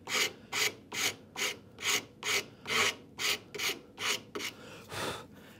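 A wooden saw handle is roughed out with a rasp in about a dozen steady, evenly spaced rasping strokes, close and clear, the last strokes slower and softer.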